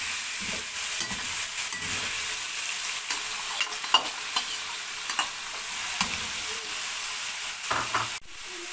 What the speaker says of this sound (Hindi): अब इसमें हम डालेंगे प्याज, ये अदरक लहसुन का पेस्ट डाल देंगे